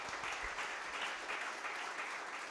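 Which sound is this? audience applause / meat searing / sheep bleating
audience applause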